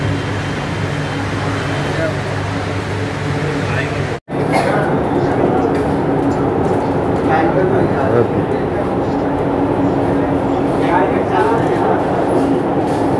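Riding inside a moving Kolkata Metro train between Noapara and the airport: a loud, constant rumble and clatter of the carriage, briefly cut off once, with voices talking over it.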